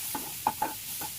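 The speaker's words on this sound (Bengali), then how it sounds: "একটু নেড়ে নেব।" Salted potatoes being stirred in a pan, a few quick close scrapes and clinks of a spoon over a faint sizzle, brief and without talk.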